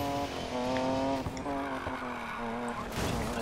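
A Hakosuka drift car in the Need for Speed Payback video game slides under handbrake, its tires letting out a sustained, loud, tonal squeal over a steady engine hum for the whole stretch.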